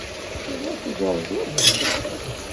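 A paste of cumin, green chili and red and white mustard being stirred into a frying curry, with a soft sizzle and brief scraping, a sharp clink near the end, and a voice talking faintly underneath.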